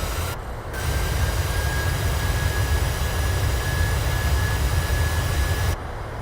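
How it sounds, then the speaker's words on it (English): Airliner engines roaring in reverse thrust just after touchdown in a flight simulator game, a loud steady broadband rush with a thin whine above it that holds for several seconds before easing off. "there's a reverse thrust coming out"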